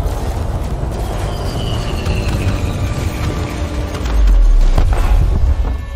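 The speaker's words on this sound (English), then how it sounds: "I love the explosions in Elite." Spaceship explosions boom in Elite Dangerous space combat, a deep rumbling blast swelling near the end over a steady mechanical drone and scattered crackles, with no talking.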